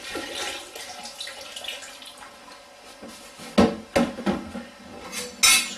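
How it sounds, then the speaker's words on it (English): Plain water trickles and splashes into alcohol in a vessel during home spirit making, with light clinks of glass or metal. The sound stays soft and uneven, then ends in a few sharper knocks near the end. "So we're just adding now our plain water to the alcohol."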